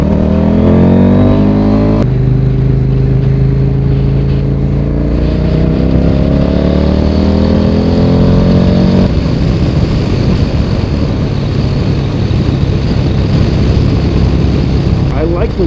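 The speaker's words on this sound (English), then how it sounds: "There's so much wind noise that's hitting the helmet that I can hear myself" A motorcycle rides with heavy wind buffeting the rider's helmet, a loud steady roar under a rising and falling engine drone with gear shifts; a voice talks faintly underneath.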